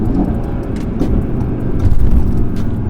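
A catless Audi RS3 exhaust roars loud and close as the car accelerates through upshifts and downshifts, with sharp crackles between gears and a rising, throaty drone.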